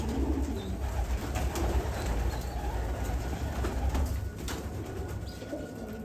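Pigeons in a loft of about two hundred birds, a steady low cooing murmur filling the whole stretch with soft wingy rustles, no talking.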